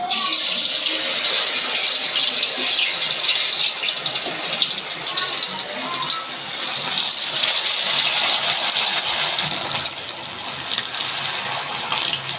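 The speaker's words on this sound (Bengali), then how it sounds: "তেল গরম হয়ে গেছে আমি এবার চিকেনটা দিয়ে দিচ্ছি" Chicken pieces dropped into hot oil for a lemon chicken fry, a loud continuous hiss and crackle of frying filling the whole stretch with no voices.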